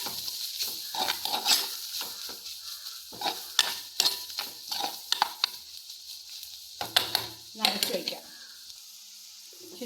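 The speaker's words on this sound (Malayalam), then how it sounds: "കുറച്ച് മഞ്ഞൾപ്പൊടി ഇട്ട് കൊടുക്കാം ഇളക്കി കൊടുക്കാം" Carrot thoran being stirred with turmeric powder in a pan, a series of uneven scraping and clinking stirs over a light sizzle, with pauses between strokes.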